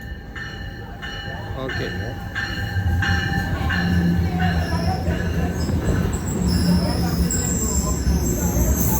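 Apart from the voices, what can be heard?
double-decker train at Rahway Station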